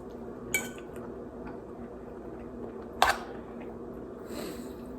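A spoon scoops turmeric rice from the bottom of a Teflon-coated rice cooker pot, giving two brief, sharp metallic clinks about two and a half seconds apart over a quiet, steady room hum.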